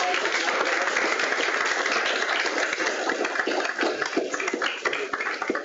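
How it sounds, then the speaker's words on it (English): Audience applause for a speaker at a science talk on dust-enshrouded eruptions from planets to supermassive black holes: dense, steady clapping from a sizeable crowd that holds for several seconds and thins slightly toward the end. "Let's give Kishalay a round of applause"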